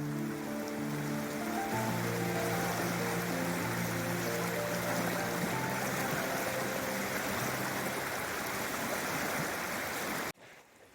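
Stream water rushes steadily past a rocky outcrop on the Kildoo Trail at McConnell's Mill, Pennsylvania, a continuous close, broadband wash that runs unbroken for about ten seconds and then cuts off abruptly.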